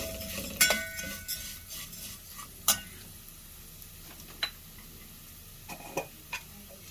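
Vermicelli roasts in cooking oil over low heat with a quiet, gentle sizzle, while a spoon scrapes and taps against the pan in scattered sharp clicks.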